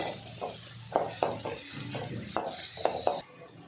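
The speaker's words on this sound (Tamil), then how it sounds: "நல்லா கோல்டன் ப்ரௌன் கலர் வர அளவுக்கு நல்லா வதக்கி விட்டுருங்க" Onions sautéing in oil in a pan for chicken gravy, a low sizzle broken by repeated sharp clinks and scrapes of a ladle stirring, close up with no talking.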